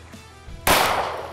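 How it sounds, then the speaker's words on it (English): A single handgun shot fired outdoors during shooting practice gives a sharp, loud bang after a brief quiet moment, followed by a decaying outdoor echo. "Whenever you're ready, shoot one bullet."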